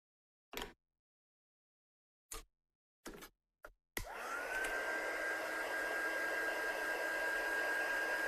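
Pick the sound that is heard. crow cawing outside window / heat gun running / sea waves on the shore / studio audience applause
heat gun running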